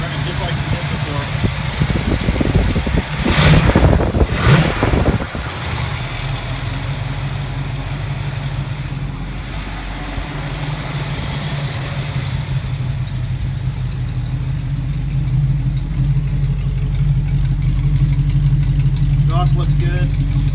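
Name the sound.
car engine idling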